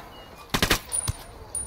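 A quick cluster of three rapid gunshots cracks out in a Ghost Recon Wildlands multiplayer firefight, followed by a lone softer shot and a faint report, fairly close and with no voices.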